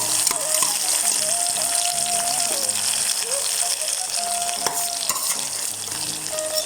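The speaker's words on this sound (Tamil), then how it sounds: "எண்ணெய் வந்து இப்போ நல்லா சூடாகிட்டு நாங்கள் இப்போ கருவாடை போடுவோம்." Dried fish frying in hot oil in a pan, a loud steady sizzle and crackle that runs continuously, with occasional stirring scrapes and no talk over it.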